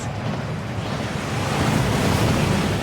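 A rushing waterfall in the game Hogwarts Legacy, a steady dense roar of falling water that swells slightly louder toward the end, with no voices.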